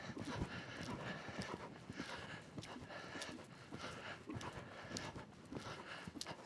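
Faint rhythmic hoofbeats of a horse cantering under an event rider in a training session, a soft continuous thudding with low background noise.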